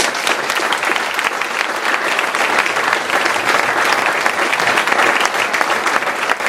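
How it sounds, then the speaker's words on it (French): Loud, close audience applause at a company anniversary gathering, many hands clapping in a dense, steady roar that holds throughout without a pause. "je pense qu'on peut l'applaudir et on peut le remercier"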